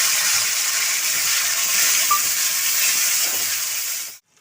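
Cumin seeds and dried red chillies tempering in hot oil with tomatoes added, a loud, steady bright sizzle and hiss running unbroken for about four seconds before cutting off abruptly.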